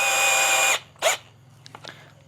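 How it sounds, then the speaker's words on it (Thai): DCA ADJZ1202 12V cordless three-mode drill boring through a plastic box, a loud steady whine for under a second, then a short second burst, with faint clicks and a low hum afterward. "หรือเป็นช่างมืออาชีพก็ไว้เจาะพวก กล่องพลาสติกอะไรเงี้ยครับ มันก็เจาะได้สบายเลยครับ"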